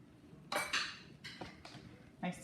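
Meat pie ingredients, including egg, are mixed in a bowl, with a utensil clinking and scraping against it in several quick, close bursts and soft stirring between them.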